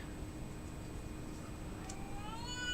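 A cat meows in a short rising call near the end, preceded by a steady low background hum and a faint high electronic tone throughout.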